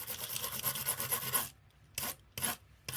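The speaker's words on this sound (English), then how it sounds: "We're cleaning our embossing mats and stuff, and just wipe it there." A small brush wipes across an embossing mat, giving close, dry rubbing strokes: one continuous scrub, then a pause and two or three short separate swipes.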